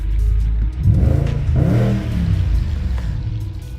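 BMW 645Ci V8 engine revving close by, a deep rumbling idle that climbs in a throaty surge and falls back, with a second rev following.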